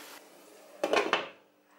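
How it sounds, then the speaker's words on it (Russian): A metal lid set onto a frying pan of beliashi, meat-filled fried pastries, gives a few quick clattering knocks in a quiet kitchen, then settles into near silence. "И сейчас можно прикрыть крышкой."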